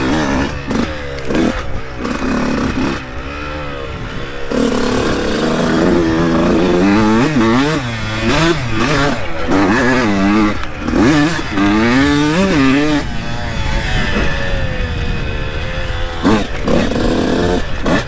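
A 2002 Honda CR125 two-stroke dirt bike screams loud and close while being ridden, the engine revving up and down in rapid rising and falling pitch sweeps with brief throttle chops, continuous for the whole stretch.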